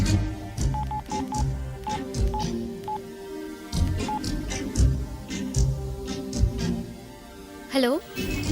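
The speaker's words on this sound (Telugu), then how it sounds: "ఫోన్ చేసుకోవాలి" A telephone keypad is dialed with a string of short, rapid tone beeps in irregular bursts, played under a person speaking, and a rising electronic chirp follows near the end.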